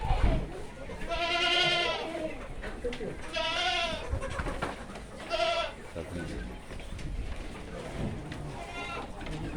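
A Jamunapari buck goat on a goat farm bleats loudly three times at close range, with a fainter fourth call near the end, while people talk in between.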